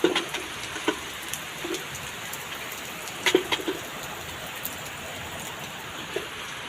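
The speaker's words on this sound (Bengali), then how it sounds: "বৃষ্টিটার আওয়াজ শুনতে পাচ্ছেন কীরকম, তার সাথে বজ্রাঘাত" Rain falls steadily as a continuous wash of hiss, with scattered nearby drops and patter; a few brief low thumps suggest distant thunder, and no one speaks.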